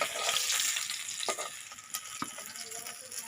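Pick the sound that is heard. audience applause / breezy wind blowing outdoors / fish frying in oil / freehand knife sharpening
fish frying in oil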